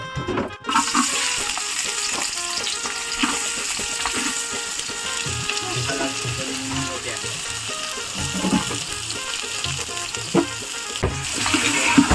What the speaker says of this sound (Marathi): पातेल्यामध्ये आपला जेवणाचं म्हणजे खाण्याचं तेल टाकत आहे